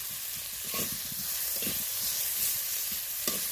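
Onion, garlic, ginger and green chili sizzle in hot oil in a pan as a spoon stirs them, soft scraping strokes recurring every second or so over a constant gentle frying hiss.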